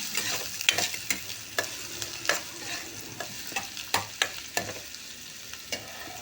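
Onion, mustard seeds, curry leaves and two slit green chillies fry in oil for a suran (elephant foot yam) bhaji, a soft sizzle punctuated by repeated sharp spatula scrapes and taps against the pan.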